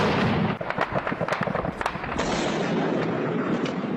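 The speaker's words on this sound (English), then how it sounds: "Gunshots in one of the largest cities in the north of Iraq" Gunfire rings out in a large city in northern Iraq, a rapid irregular burst of sharp cracks and pops over a hiss of street noise, fading into a steadier background after a couple of seconds.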